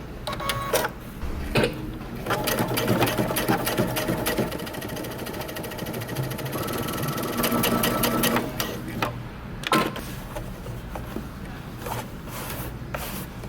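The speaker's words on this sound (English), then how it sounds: "Now we're going to top stitch again about 3/8 of an inch from the edge." A sewing machine runs steady and fast while it topstitches denim jeans 3/8 inch from the edge, with brief pauses and restarts and a clear mechanical whir.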